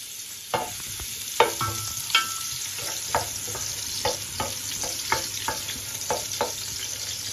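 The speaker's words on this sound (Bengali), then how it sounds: "এখন আমি একটুখানি অনিয়ন দিয়ে দিচ্ছি, একটুখানি অনিয়ন দিয়ে দিলাম।" Onion frying in reused oil left from making crispy fried onions, a steady sizzle under regular sharp clacks and scrapes of a spoon stirring against the pan, close and even throughout.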